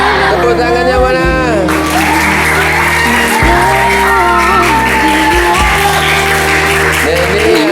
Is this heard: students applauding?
yes